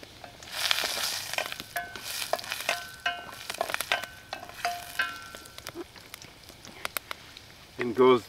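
Carrots and chicken thigh meat sizzle in a couple spoonfuls of grapeseed oil during a camp stir-fry, a soft crackle broken by utensil clicks and clatter, with some talking over it.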